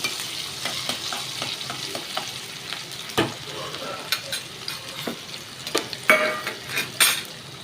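Chopped onion sizzles in a pan while being stirred, giving a steady frying crackle broken by sharper scrapes and clinks of a utensil against the pan, close and without any talking.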